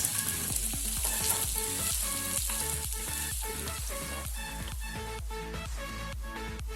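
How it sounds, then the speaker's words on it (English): Four small chopped onions sauté in a pan for aloo dum, a continuous strong sizzle overlaid with regular rhythmic scraping strokes of a spoon, close and with no talk. "And we're also going to add our 4 small chopped onions here. Sauté this for about 2 minutes."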